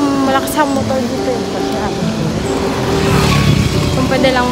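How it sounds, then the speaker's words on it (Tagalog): A motorcycle engine runs loudly and steadily close by, its droning hum continuous throughout, with voices talking over it. "Malakas ang motor dito."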